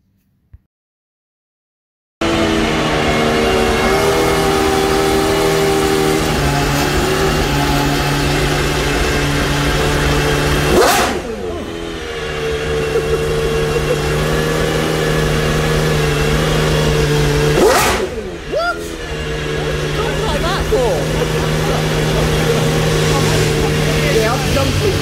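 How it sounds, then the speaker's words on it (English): Aston Martin Valkyrie hypercar at the Goodwood show, its engine droning loudly and steadily close by with two sharp rev sweeps, crowd and voices audible underneath. "the car of the show for me, worth a good few million, the Aston Martin Valkyrie"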